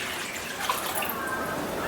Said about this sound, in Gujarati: 2 ગ્લાસ આપણે પાણી નાખી દઈશું